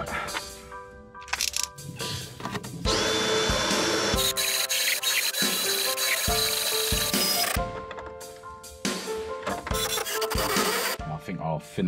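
Filing out a drilled 12 mm hole in metal: repeated loud bursts of harsh rasping and grinding, separated by short pauses, close up with no talk.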